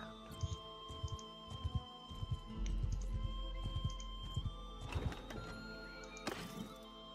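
Game-style horse sounds: rhythmic hoof clops and a whinnying neigh near the end over a steady background hum, moderately loud with no speech.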